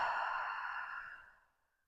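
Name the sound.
deep exhale after breathing in through the nose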